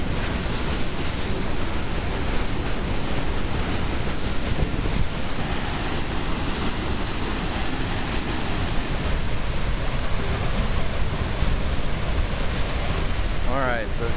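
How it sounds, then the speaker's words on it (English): Waterfall in Vintgar Gorge, Slovenia, heard from below: a steady, loud roar of falling water, broadband and unbroken throughout. "Alright, so here is the real waterfall from the bottom."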